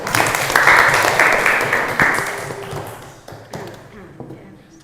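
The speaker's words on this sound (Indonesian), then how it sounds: "Aplaus dulu." Students in a classroom break into brief applause on cue, a burst of clapping that starts loud and thins out over a few seconds, with scattered taps and knocks trailing off.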